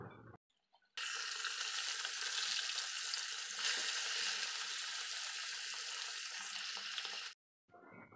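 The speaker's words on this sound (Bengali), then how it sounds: "তো মাছ ভাজা বসিয়ে দিয়েছি" Fish frying in a hot kadai gives a loud, steady sizzle that begins abruptly, holds for about six seconds and then cuts off, with no talking.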